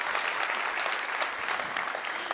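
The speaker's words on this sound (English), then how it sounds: "just give a clap for some of these" Conference attendees at a tech talk clap together in a steady, fairly loud burst of applause lasting a couple of seconds, with a faint voice underneath.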